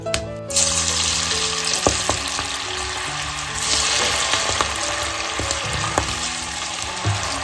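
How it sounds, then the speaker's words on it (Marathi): Jackfruit slices fry in hot oil in a kadhai for crisp chips, giving a loud, steady sizzle throughout, with scattered clicks and scrapes of stirring layered on top. "तेलामध्ये आपल्याला तळून घ्यायचं"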